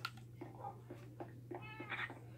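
Cat meowing inside a video game, a series of short mewing calls repeated at a steady rhythm over a constant low hum, fairly clear and close.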